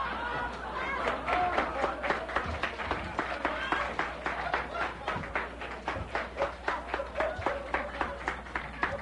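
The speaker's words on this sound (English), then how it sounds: "Are you applauding Chuck?" Applause and clapping from a live audience at a radio show, steady, moderately loud and lasting throughout, with crowd chatter and laughter mixed in.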